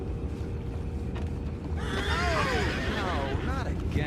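A video game horse whinnies loudly and shakily, then neighs again, over a low murmur of background noise and faint voices.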